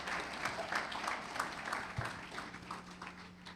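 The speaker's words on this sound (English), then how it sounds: "Please keep clapping for" Steady applause from an audience at the Recover Guyana SHOUT 2024 event, a continuous even wash of many hands clapping, with a faint voice underneath.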